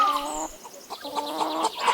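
A cartoon hen in an animated story clucks rapidly and agitatedly in a short burst of repeated calls, close and clear over a faint music bed.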